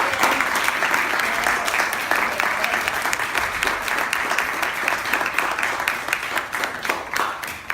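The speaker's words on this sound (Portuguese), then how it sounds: "a ele especialmente eu quero pedir uma salva de palmas" Applause at a state family and inheritance law conference, a dense crowd of hands clapping steadily throughout, loud and sustained, with some voices mixed in.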